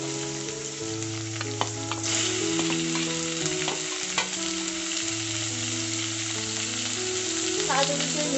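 Minced chicken fries in a pan with capsicum, onion, ginger and garlic, a loud steady sizzle with occasional stirring clicks and music playing underneath.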